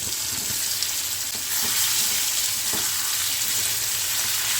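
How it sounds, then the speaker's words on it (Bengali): Taro and potato frying in hot mustard oil over a high flame, a loud, steady close-up sizzle that holds throughout with a slight swell partway through, no talking. "প্রথমে আলুটা আরবিটা আমি একটু ভেজে নেব।"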